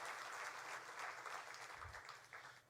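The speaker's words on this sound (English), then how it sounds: "How about another round of applause for Greg Hayes, the Chairman and CEO of Unit" An audience at a Carrier plant event in Indiana applauds in a steady, dense wash of clapping that holds throughout and eases slightly at the end.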